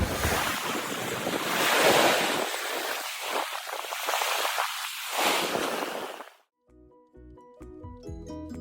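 Ocean surf washing onto a beach at sunrise in Mexico, a steady broad roar of breaking waves with wind noise on the microphone, swelling and fading for about six seconds before a quiet tail with faint tonal sounds.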